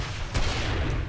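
Heavy gun blasts from the 7 Days to Die video game, a short burst of dense, booming fire with one sharp report standing out in the middle.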